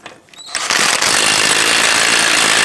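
An impact gun drives down the axle nut on a 2006-2013 Chevrolet Impala hub during a wheel bearing and hub assembly replacement, a short trigger blip and then a loud, steady hammering rattle up close, with no voices.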